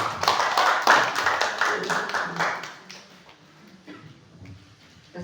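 A church congregation claps hands in a brisk, rhythmic burst of close, sharp claps that fades after a few seconds into quieter background sounds.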